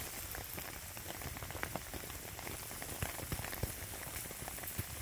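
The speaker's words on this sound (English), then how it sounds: "kind of hard to tell, but I can hear it sizzling" Food sizzles on a camp cooking surface, a faint, steady crackle and hiss with small irregular pops, heard alone with no talk.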